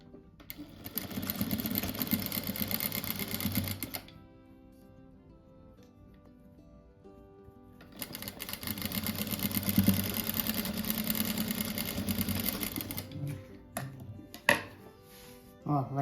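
A sewing machine stitches small reused fabric pieces together for a rug, running in two steady whirring bursts separated by a quiet pause, with a few light knocks near the end.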